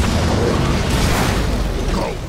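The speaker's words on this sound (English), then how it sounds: "The core's about to detonate." A ship's reactor core explodes in the Transformers: War for Cybertron video game, a loud, sustained rumbling blast with crackling debris that slowly tails off.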